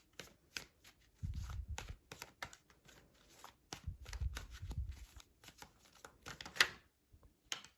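Tarot cards shuffled and pulled from a deck: papery riffles and flicks, a couple of low thumping bursts as cards are handled, then crisp individual snaps, close-up with no voices.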